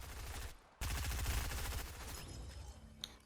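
Rapid bursts of gunfire in a cowboy video game, a dense loud volley that crackles for a couple of seconds after a short lull, then thins to scattered fainter shots.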